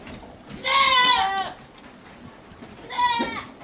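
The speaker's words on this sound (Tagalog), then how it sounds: "Daming kambing oh." Goats at an eco park in Palacapac, Candon City, Ilocos Sur give two loud, wavering bleats close by, one long call followed by a shorter one after a pause.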